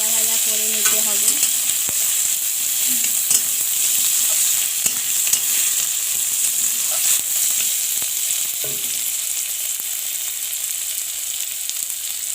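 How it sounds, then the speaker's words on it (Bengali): Onions and green chillies sizzle steadily in hot oil in a pan, a continuous bright frying hiss with occasional stirring scrapes, close and loud throughout with no talking. "পেঁয়াজটা ভালোভাবে ভাজা ভাজা করে নিতে হবে।"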